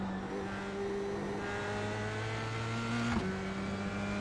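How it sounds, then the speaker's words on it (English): An F3 race car engine in iRacing drones steadily at high revs, then gives one quick gear-shift blip near the end before settling at a new pitch, loud and continuous with no voices. "I like the gear shift sound in this."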